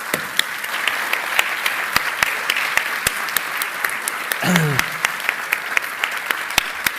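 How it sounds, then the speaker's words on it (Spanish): A conference audience gives sustained applause to a guest speaker, with crisp individual claps scattered through the wash and a brief voice rising midway. "Un aplauso para ti."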